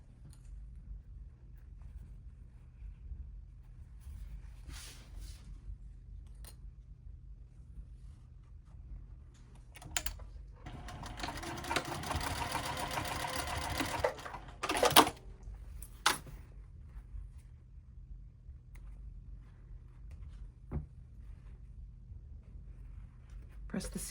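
A sewing machine stitches the short ends of a fabric crescent bag together in one continuous run of several seconds, a dense mechanical whirr in an otherwise quiet room, with faint handling noises before and after.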